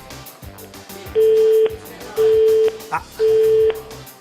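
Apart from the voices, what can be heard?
telephone dialing a mobile phone that is busy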